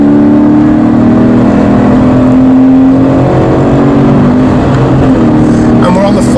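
Toyota GT86 engine driving around the Foster circuit on a trackday, a loud close-up drone with shifting tones as the car runs at reduced warm-up pace, with talk inside the car.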